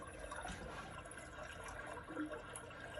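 Water sound from a bedroom galaxy light projector's white noise setting, a steady faint wash of flowing, trickling water with no pauses or voices.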